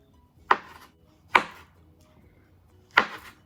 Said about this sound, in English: So now we're going to cut the plantain 1/4 of an inch thick slices.